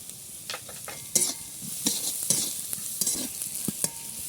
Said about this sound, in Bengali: গাজর ক্যাপসিকাম ভালো করে ভাজা হয়ে গেছে